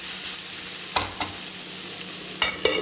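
Vegetables with curry leaves fry in a pan for fried idli, a steady soft sizzle punctuated by four sharp spoon scrapes and clicks against the pan, close and without voices.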